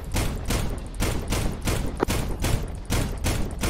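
Rapid bursts of rifle and machine-gun fire in Arma 3, a squad firefight with steady repeated volleys pounding close and loud throughout, with no voices over them.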